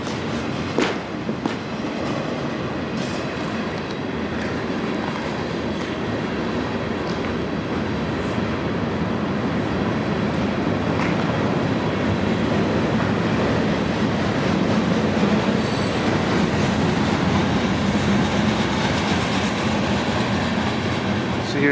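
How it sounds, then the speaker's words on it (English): A train passes on a railway near an old factory once owned by the Cleveland Railway Company, a steady loud rumble with rolling clatter of wheels lasting the whole stretch, constant and fairly near. "There's a train going by."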